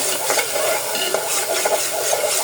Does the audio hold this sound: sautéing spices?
yes